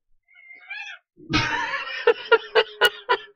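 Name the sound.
cat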